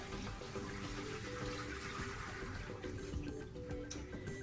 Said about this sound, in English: We go ahead and dump the water into the sink.